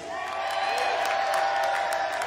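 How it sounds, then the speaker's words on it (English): Outdoor concert crowd in Morris, Connecticut, applauding and cheering for the lighting crew, a dense steady wash of clapping and whoops that stays loud throughout. "That was a great round of applause."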